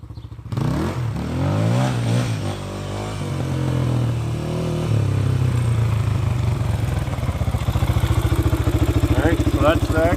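Honda XR400 electric-start dirt bike revving and accelerating close by during a wheelie attempt, its engine rising and pulsing steadily as a voice talks over it.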